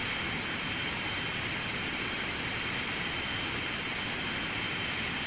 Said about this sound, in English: It's a little loud when we're out here on these engines.